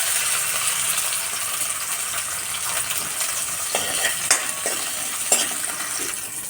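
Cumin and corn kernels sauté in hot ghee in a pan for drumstick soup, a bright, even sizzle, close and loud, with a few clicking scrapes of stirring toward the end and no talking.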